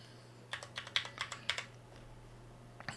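Someone types on a computer keyboard nearby in a quiet room, producing a quick burst of crisp key clicks followed by a pause and a couple of final taps.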